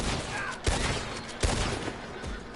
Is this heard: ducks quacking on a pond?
no